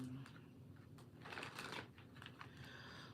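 Playing cards are shuffled in quick riffling bursts over about three seconds, close and fairly quiet, with no talking.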